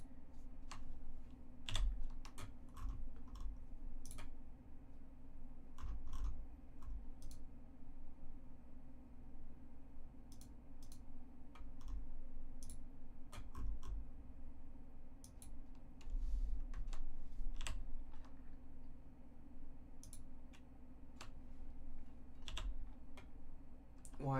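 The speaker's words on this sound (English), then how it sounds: "it's a mechanical keyboard. What do you expect?" Mechanical keyboard typing close to a microphone during a Minecraft session, with bursts of sharp clacking keystrokes repeating across the whole stretch over a steady low background hum.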